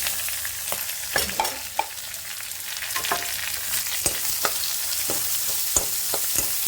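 Onion, ginger and garlic fry in hot oil for a mixed dal, a close, continuous sizzle broken by the clatter of stirring, with no talking.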